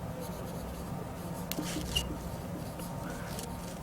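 A pen or marker scratches across a writing surface during an English lesson, soft continuous rubbing strokes with a few brief louder taps, close but faint over a steady low room hum.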